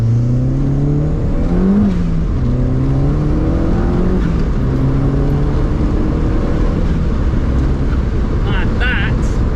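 A 1983 Mk1 Golf GTI with a 1.8 engine accelerates hard in second gear, its engine note climbing steadily with a brief gear-related dip, loud and close inside the car with some talking over it.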